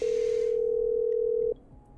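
A single steady telephone dial tone in the video game Killer Frequency, clear and unbroken for about a second and a half before cutting off into quiet background.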